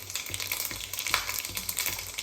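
Fenugreek and cumin seeds temper in very hot oil for tomato pickle, giving a close, continuous crackling sizzle with quick popping spurts throughout, alone without voices.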